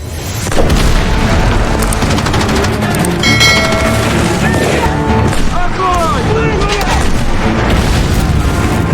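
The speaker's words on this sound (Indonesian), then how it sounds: "pasukan artileri yang telah siap di posisinya langsung menargetkan tank dan kendaraan lapis baja pasukan Nazi tersebut" Artillery fires on Nazi German tanks in a war film, with heavy booms and crashing blasts layered over a dense battle din, while a narrator talks over the soundtrack.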